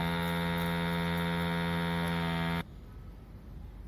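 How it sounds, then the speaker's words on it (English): A desoldering rework station's vacuum pump runs with a steady, loud electric hum and buzz, then cuts off abruptly, leaving only faint room noise. "then we will rotate it and then activate the vacuum button"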